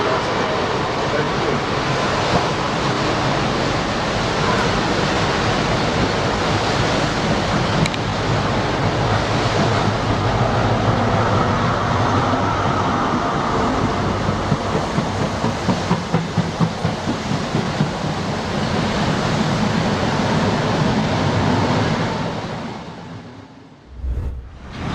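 British train ploughing through flood water, a loud continuous rushing surge of water with rumbling undertone, sustained for over twenty seconds before abruptly cutting out near the end.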